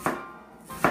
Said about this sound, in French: Donc, je coupe mon oignon.